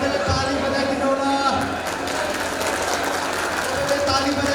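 Audience clapping at a Nepali cultural festival in Sonipat, Haryana, a steady patter of hands mixed with crowd noise and a sustained musical tone in the background.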